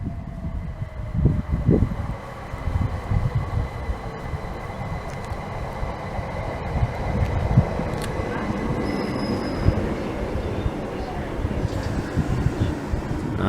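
A Class 379 electric train departs Broxbourne station, a loud continuous rumble of wheels and motors with faint squeals and clatter over about fourteen seconds, heard close at platform level.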